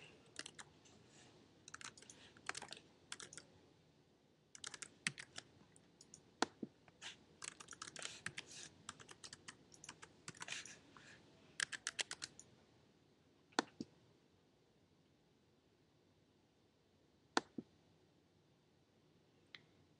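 Close, quiet computer keyboard typing in irregular bursts of clicks, thinning out to a few isolated keystrokes over a faint background hum.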